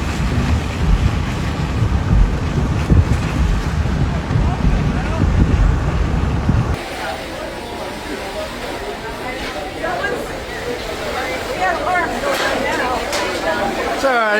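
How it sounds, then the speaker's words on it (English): Strong gusting wind of a sudden squall on Lake Geneva, Wisconsin, roars loud and broadband close to the microphone, heaviest in the first half and then easing to a steady rushing buffet. "It's all right, it's just a squall."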